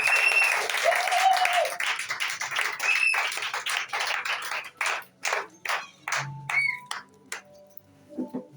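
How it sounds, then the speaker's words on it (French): A church congregation applauding and cheering during a service, dense and loud at first with voices mixed in, then thinning into scattered separate claps toward the end. "Alors sous vos acclamations, nous allons inviter ici notre Père spirituel"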